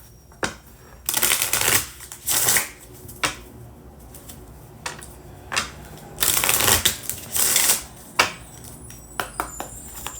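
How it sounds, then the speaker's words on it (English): A deck of oracle cards being shuffled by hand in a tarot-style reading, with repeated riffling bursts and sharp snaps close up, separated by brief pauses and no talking. "let me hurry up and get into these oracle cards before I go"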